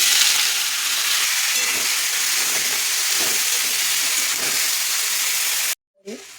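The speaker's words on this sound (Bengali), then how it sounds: "এইবার তেলের উপরে আলু আর মটরশুঁটি" Potatoes and green peas sizzle in hot oil seasoned with a little sugar, panch phoron and a dried red chilli, a loud, even frying hiss that cuts off abruptly near the end before a brief sound.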